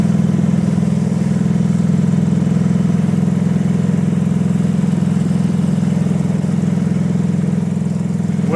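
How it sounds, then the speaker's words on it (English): A motorcycle engine runs steadily at close range, a loud, even drone with a constant low rumble that barely changes pitch, heard alone without voices. "we have to leave here and get on the bike"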